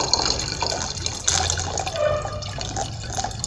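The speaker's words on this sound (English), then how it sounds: "transfer the mixture of the 3 solutions into a 1 liter volumetric flask" A mixed liquid solution is poured into a 1 liter volumetric flask in a lab, giving a continuous close trickling and splashing with faint gurgles, steady and moderately quiet with no talk.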